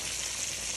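Breaded chicken fried steak sizzles in a frying pan, a dense continuous hiss of hot oil crackling close to the microphone throughout.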